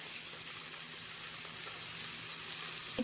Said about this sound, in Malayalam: ഇതൊരു 10 മിനിറ്റ് പൊരിക്കണം.